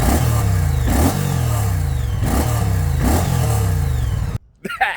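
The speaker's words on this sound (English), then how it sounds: "It even does the bucking bronco thing because of the opposed V-twin." Moto Guzzi opposed V-twin motorcycle engine revving up in several loud, close blips with a deep rhythmic pulse, then cutting off abruptly near the end with brief clatter.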